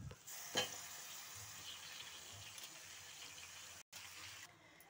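About half a kilo of sliced brinjal (eggplant) frying in a pan, giving a soft, steady sizzle with faint stirring scrapes, fairly quiet and without speech.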